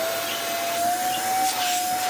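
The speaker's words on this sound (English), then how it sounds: "We're going to lock our hose into place and turn it on." A corded cyclonic vacuum cleaner runs steadily with a loud, constant whirring roar and a thin high whine.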